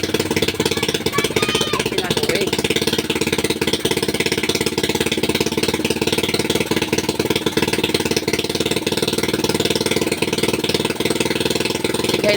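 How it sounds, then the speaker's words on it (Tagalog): A motorcycle with no battery, started by kickstart, runs at a loud, steady, rapid chugging idle close by throughout, with no talking. "Pero bago yun, paandarin muna natin kasi wala pong battery yung motor ng ating idol. So kickstart muna."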